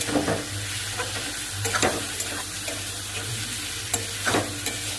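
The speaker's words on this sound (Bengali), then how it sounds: "এদিকে এই যে মশলা কষাচ্ছি" Spice paste of tomato, onion, ginger, garlic, cumin, coriander, chilli powder, salt and turmeric frying in a pan after fried katla fish, a steady sizzle broken by scraping stir strokes every second or so, close and fairly loud.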